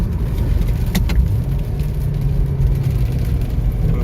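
Manual transmission car driving steadily with a continuous low engine drone and road rumble, a couple of faint mechanical clicks near the start as the gears are downshifted to third.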